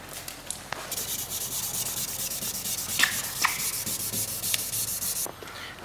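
Hand sanding of a wrecked Dodge's car paint with 1000-grit sandpaper, a close, steady rhythmic rubbing and scratching in back-and-forth strokes, fairly soft, with a few sharper scrapes and no talking.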